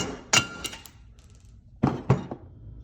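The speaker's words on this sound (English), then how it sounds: "take a rubber mallet, and you tap it out" A rubber mallet taps a brass shift rod bushing on a Johnson Evinrude outboard, making a few sharp, close knocks: one early strike, then two or three quick taps after a pause.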